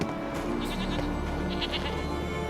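A goat in The Witcher 3 bleats in a few short, wavering cries over a steady game background hum.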